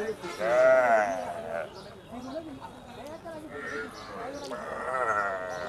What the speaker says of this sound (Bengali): এখানে বাছুরগুলি দেখতে পাচ্ছেন।